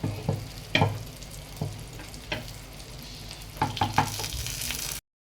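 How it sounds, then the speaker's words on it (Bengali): Fried eggs with green chili are stirred in a frying pan, a soft sizzle running underneath scattered scrapes and clinks of the spatula, ending abruptly. "ভালো করে একটু নেড়ে ছেড়ে দেবো"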